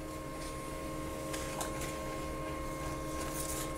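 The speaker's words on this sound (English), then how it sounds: "Something will get printed, so open this flap." A Pantum P2500W wireless laser printer runs a page with a steady whirring mechanical drone and faint tonal hum, with a few brief clicks and rustles partway through, close and continuous.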